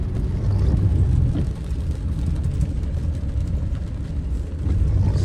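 A car driving through the town centre of Morada Nova, Ceará, with a steady, loud engine and road rumble throughout and no talking.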